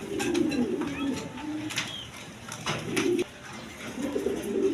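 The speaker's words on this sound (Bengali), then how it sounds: "দশমীদা এখানে এক বোম্বাইয়ের বেবি কবুতর আছে" Young Bombai-breed pigeons coo in low, repeated rounded calls close by, with a few soft clicks and rustles between them.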